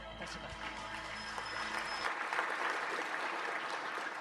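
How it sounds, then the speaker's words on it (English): Audience applause at a conference opening ceremony and plenary session, heard as a broad, steady wash of clapping in a large hall. A low hum stops midway and the clapping carries on alone. "Thank you for the round of applause"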